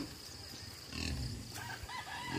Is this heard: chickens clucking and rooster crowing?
yes